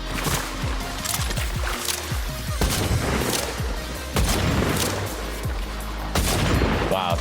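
Gunfire in the video game Fortnite, a loud, busy stretch of repeated shots and booming impacts with no pause across the whole stretch.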